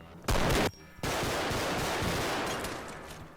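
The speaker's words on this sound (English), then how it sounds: "Like, how many rounds do you have in that handgun? You just mag dumped it to the guy." A handgun is emptied in rapid succession in a realistic shooter game, a loud sharp volley of shots followed by a brief gap and then a sustained crackle of continued gunfire that slowly tapers off.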